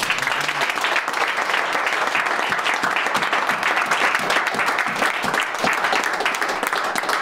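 Church congregation applauding the Lord, a dense, sustained burst of many hands clapping at close range that fills the whole stretch with little pause.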